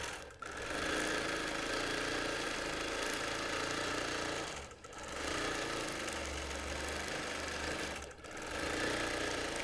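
A sewing machine stitches free-motion flame loops across a T-shirt quilt, its motor buzzing loudly and steadily in three long runs separated by brief pauses.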